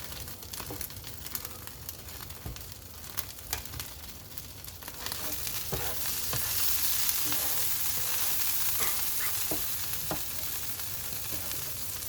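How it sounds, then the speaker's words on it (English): Eggs fry in a pan with butter, starting as a lighter crackle with scattered clicks and swelling into a fuller, steady sizzle midway, close and continuous. "I'm going to start cooking my eggs over here"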